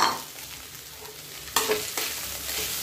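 Soaked, drained flattened rice (chira) is stirred with peanuts in a hot pan for chira pulao, a close crackling sizzle with a sharp scraping burst midway as the mixture is turned over.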